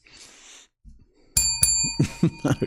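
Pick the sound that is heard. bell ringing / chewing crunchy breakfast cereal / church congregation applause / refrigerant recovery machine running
bell ringing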